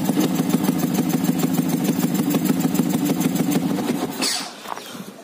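A Yamaha FZ150i motorcycle fitted with an SHM aftermarket exhaust idles steadily and loudly close by with an even, throbbing pulse, then the engine cuts off near the end and leaves quieter rustling.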